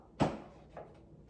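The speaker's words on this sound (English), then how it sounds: "When you are finished, you're going to pull the safety latch up" A folding bedside commode chair's safety latch being pulled up, a single sharp plastic-and-metal clack followed by a fainter click, close and alone.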